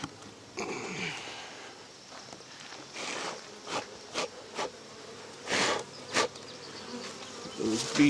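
Honey bees buzzing around nearby while a hive is requeened, a steady hum with occasional louder passes and brief thumps and rustles of handling.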